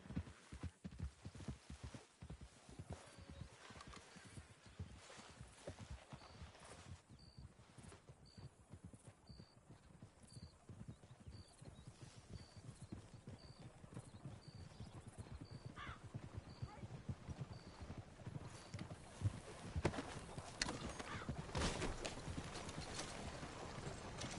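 Steady clip-clop of horse hooves on a hard surface in the video game Red Dead Redemption 2, rhythmic and continuous, with faint ambient sounds in the background.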